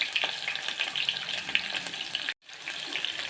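Onions fry in hot oil for a vegetable pulao, giving a dense, bright, steady sizzle with rapid crackles, briefly cutting out for a moment before resuming.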